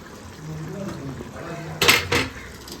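Beef curry is stirred in a metal pot, with soft scraping early on and then two sharp clanks of a utensil against the pot near the end, close by.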